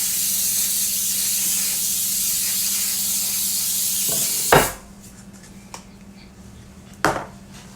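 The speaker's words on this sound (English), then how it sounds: "every time I spray air, it chokes me up" A can of compressed air sprays in a long, loud, steady hiss for about four and a half seconds, then cuts off with a sharp clack, followed by quieter moments with a few light knocks.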